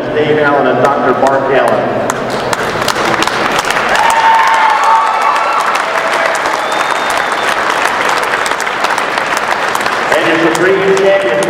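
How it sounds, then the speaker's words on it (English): Loud, sustained crowd applause with some cheering fills a Hereford cattle show arena at the National Western Stock Show, continuous clapping close by with voices and talk over it throughout. "Give yourselves a round of applause"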